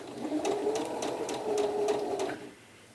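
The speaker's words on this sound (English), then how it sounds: "And sew that small edge again along the line that you've marked" A domestic sewing machine stitching a small sleeve edge on a blouse, a close, steady whirring run of rapid needle strokes lasting a couple of seconds before stopping, with no talk.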